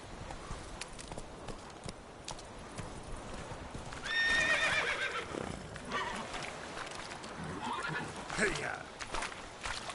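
Roach the horse in The Witcher 3 trots with steady clip-clop hoofbeats, then lets out a loud whinny midway as the pace builds; someone talks over parts of it.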